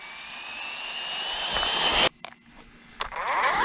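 A Traxxas Slash RC car's electric motor at wide open throttle, a rising high-pitched whine that climbs steadily for two seconds, then drops abruptly and spins up again, fairly close.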